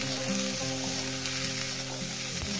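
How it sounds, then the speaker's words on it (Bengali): Spiced cauliflower and katla fish, seasoned with salt and turmeric, fry in a pan with a steady, close sizzle that runs unbroken and fairly loud throughout. "সুন্দর করে আমি লাল লাল করে ভেজে নেব"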